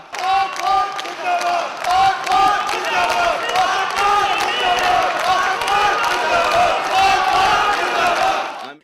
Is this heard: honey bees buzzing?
no